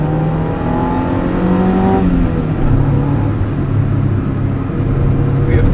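A 1996 Mazda MX-5 Miata's engine revs while driving, its pitch climbing steadily, dropping as a gear changes, then building again; the engine drone sounds close and loud from inside the car.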